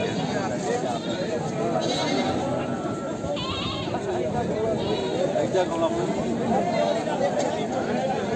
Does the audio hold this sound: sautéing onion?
no